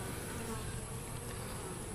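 Dense, steady buzzing of many bees swarming at a top bar hive, a continuous close drone with no pauses and no talk over it.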